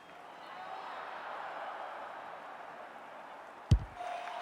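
Stadium crowd at an AFL 26 video game match between Collingwood and the Brisbane Lions, a steady roar of spectators swelling faintly, broken near the end by a single sharp thud.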